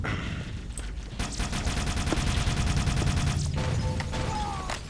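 Halo match audio with sustained rapid gunfire and a grenade blast, loud dense bursts running through most of the stretch amid game effects, no talking.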